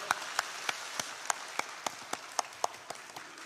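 A church seminar crowd claps together in a steady, even rhythm, sharp claps repeating about three times a second.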